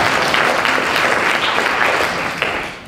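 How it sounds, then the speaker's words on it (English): Seminar audience applauding in a room, a steady dense wash of clapping from many hands that holds at full strength before easing off near the end. "Can we have a round of applause, please?"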